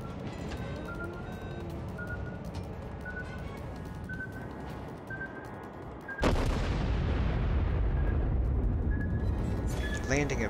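Ship guns fire in the World of Warships video game, with US battleship New York shooting a heavy salvo. A deep, loud boom breaks in over steady engine and sea rumble, and a faint voice sits beneath.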